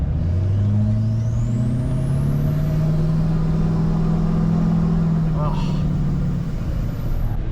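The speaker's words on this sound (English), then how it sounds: "It feels so good to be driving this big dumb truck around." A dually pickup truck drives along with a loud, steady engine drone whose tone rises and falls as it shifts, heard close from inside the cab with a voice speaking over it.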